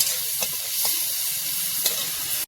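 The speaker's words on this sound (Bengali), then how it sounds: "চিংড়ি মাছটাই ভালো করে ভেজে নিচ্ছি" Prawns fry in a pan with an even hissing sizzle, close and steady, broken by a few sharp spits and pops and cut off abruptly at the end.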